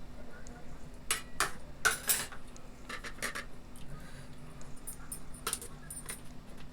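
Spice powder is stirred into tomato rasam in a metal pot. A spoon clinks and scrapes against the sides in several short bursts over a low steady kitchen hum.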